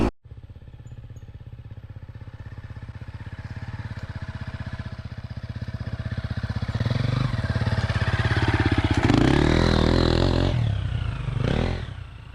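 A Triumph TF250E enduro motorcycle rides through Australian bush, its engine droning steadily close by, then lugging and revving harder toward the end, with clattering and scraping from the terrain.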